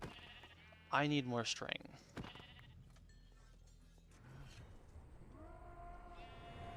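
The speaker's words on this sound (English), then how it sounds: "I guess that would be why I hear sheep, and very loudly at that" Sheep bleating loudly in the Minecraft modpack Nomifactory, a sharp wavering bleat close by followed by quieter ones, with someone talking over the game sounds.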